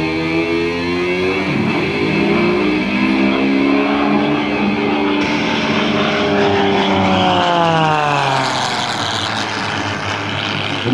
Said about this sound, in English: It's probably the best aerobatic airplane in the world, the MXS